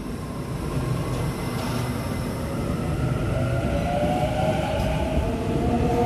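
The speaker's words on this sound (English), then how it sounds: "Warata A75 now departing platform 2 at Asquith." A Waratah A75 train departs the platform at Asquith station, a steady rumbling roar with rising whine from the motors, fairly loud and close with no talk.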